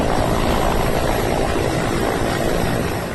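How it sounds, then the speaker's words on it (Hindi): A rescue helicopter hovers during flood rescues in the Uttarakhand and Himachal monsoon floods, lifting people by rope: a loud, continuous rotor and engine roar that fills the whole stretch without a break. "एक एक कर रस्सी के सहारे हेलीकॉप्टर से रेस्क्यू किया जा रहा है।"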